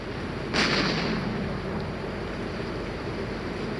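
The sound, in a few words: bomb thrown into water exploding, from video game GTA 3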